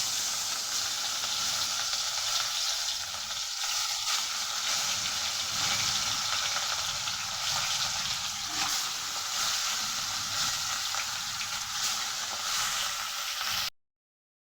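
Fish fries in hot oil in a kadai for a Bengali fish curry, giving a steady, close, dense sizzling hiss that holds for the whole stretch before cutting off abruptly at the end.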